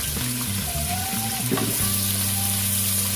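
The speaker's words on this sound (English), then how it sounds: "So we're just going to toss this around for a little bit." Vegetables tossed in a hot pot sizzle and fry steadily and up close, with a brief stirring clatter partway through and no talking.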